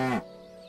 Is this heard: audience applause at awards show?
no